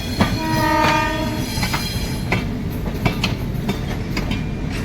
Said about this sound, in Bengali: Tatanagar Howrah still express Howrah station enter করছে